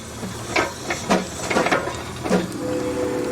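A Case steam traction engine running with rhythmic hissing chuffs and mechanical clatter, steady and fairly loud, with a faint whistle-like tone near the end.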